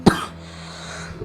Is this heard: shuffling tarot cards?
no